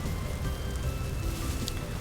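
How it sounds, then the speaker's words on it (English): Steady rain falling in Vintage Story, a dense continuous patter with a low rumble beneath it, at an even level with no talking. "Oh, good, the rain's ending."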